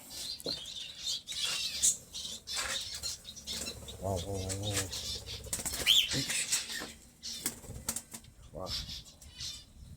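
A finch escaping its open cage makes rapid wing flaps and fluttering bursts with soft coos and scratchy rustling, close by, mixed with patches of voices and background noise.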